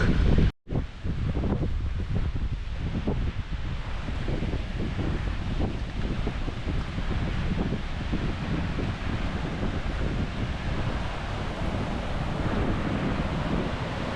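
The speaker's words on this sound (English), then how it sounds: "I can see the water. I can hear the water." Rushing river water near Linton Falls in Grassington, a steady, loud, close roar of churning flow that runs unbroken from start to finish, mixed with some wind buffeting.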